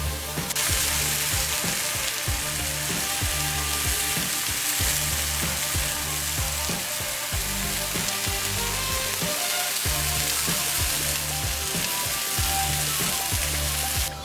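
Fish for tacos sizzles steadily in a hot pan, a dense continuous frying hiss with scattered crackles and a few low thumps of stirring, loud and close with no talk.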